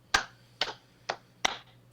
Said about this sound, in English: Is that how Steve claps?